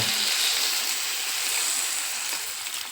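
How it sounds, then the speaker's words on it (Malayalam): Water is poured steadily into a pot of potatoes, making a continuous close hiss and splash that tapers slightly toward the end. "നമ്മൾ അതിലത്തിൽ വെള്ളവും കൂടെ ഒഴിച്ച് കൊടുക്കുന്നുണ്ട്."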